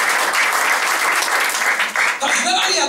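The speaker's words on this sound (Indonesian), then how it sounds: "Yang percaya tepuk tangan dulu bagi Yesus." A church audience applauds for Jesus in a loud, continuous burst of many hands clapping together, and a voice rises over the tail end of the applause.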